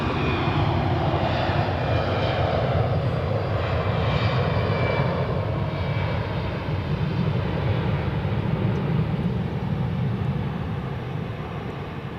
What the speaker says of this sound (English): The next one is an Edelweiss A320 on the runway.